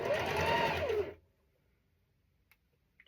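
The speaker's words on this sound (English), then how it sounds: "Sew this up." A sewing machine whirs in a steady, close burst of rapid stitching as two rows of a cat-themed quilt are joined, stopping after about a second and leaving a quiet room with faint clicks.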